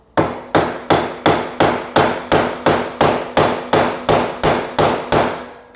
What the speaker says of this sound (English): let's go ahead and push the axle in.